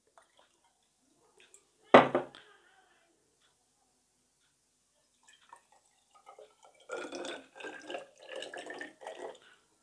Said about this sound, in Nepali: एउटामा मैले पहिला थोरै यसमा पानी थपेँ